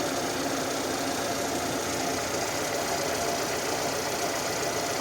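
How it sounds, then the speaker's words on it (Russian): The running engine of a VAZ 21214 Niva 4x4 rattles with a loose timing chain, a continuous dense metallic clatter over a steady idle, close and even throughout. "Но это цепь. Это сейчас цепь. Ее натянуть надо."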